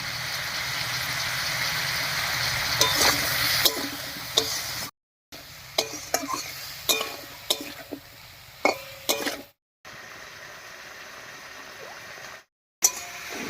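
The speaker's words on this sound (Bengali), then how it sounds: "লবণ আর হলুদ দিয়ে একটু নাড়িয়ে নিলাম।" Prawns stirred with salt and turmeric in a frying pan, a spoon scraping and clinking against the pan in scattered strokes over a steady low sizzle, close and alone with no talk.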